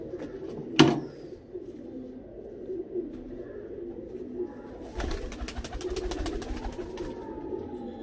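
Pigeons bred in Pakistan and kept in Iraq, cooing softly close by against a steady low ambient rumble, with a sharp knock near the start and a burst of rapid clattering toward the end.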